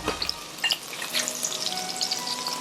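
Chopped chili and garlic sizzle in a wok for a chicken mapo tofu dish, a crackling hiss with a few clatters of stirring near the start, close and moderately loud.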